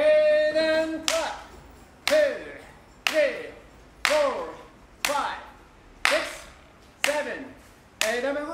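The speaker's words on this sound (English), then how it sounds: "and clap" Hand claps during a dance warm-up, eight sharp evenly spaced claps about once per second, close and clear, with a voice speaking at the start.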